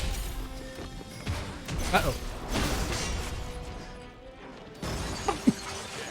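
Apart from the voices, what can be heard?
smash attacks making chandeliers fall, Stranger of Paradise video game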